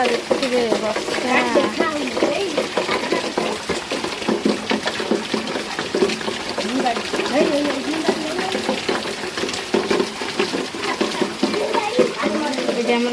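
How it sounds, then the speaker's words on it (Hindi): Leafy greens fry in a pan with a steady, dense sizzle and stirring that runs the whole time beneath a person talking. "ये शाग भजा हो"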